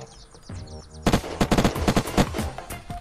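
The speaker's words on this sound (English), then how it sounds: "Maple Strike!" Maple Strike rifle fire in Unturned arena, a dense burst of rapid loud shots crackling in uneven bursts after a quieter second of low background noise.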